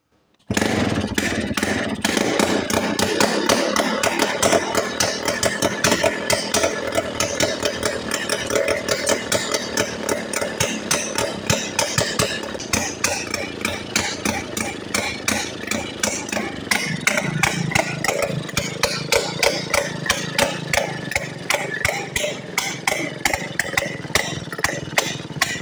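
A Mercier 98cc moped with a Villiers two-stroke engine runs close by with a rapid, buzzing, pulsing exhaust beat, holding steady and then revving with a brief change in pitch, continuous for the whole stretch.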